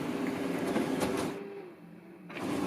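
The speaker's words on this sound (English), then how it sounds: "just wait for that to come out on this little printer down here" Double-sided scanner printer running in a home office, a steady mechanical whir and rattle with a short drop in level partway through before the feed noise returns.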